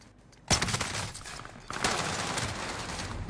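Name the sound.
gunfire in a battle royale video game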